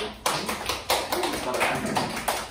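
Scattered hand claps from a small group of high school students, uneven and brief, with talking mixed in.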